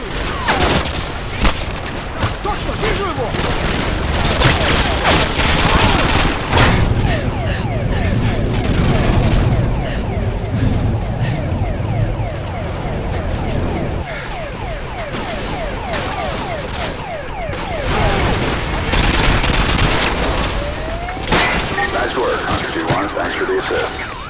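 Gunfire rattles in dense, rapid bursts from a sentry gun in Call of Duty Modern Warfare 2, mixed with other battlefield shots and booms. The firing is loud and close, with shouted voices heard among the shots.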